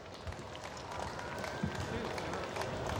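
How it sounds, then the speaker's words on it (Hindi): Applause from an audience welcoming Jharkhand Chief Minister Hemant Soren at an outdoor Christmas celebration on Loyola Ground, Ranchi; steady distant clapping and crowd noise throughout, with a voice speaking over it. "तो जोरदार तालियों से हम उनका स्वागत करते हैं।"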